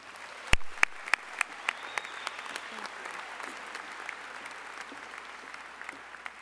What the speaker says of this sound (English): Please join me in giving another round of applause for Dr. Mary Beth Bizzanieri.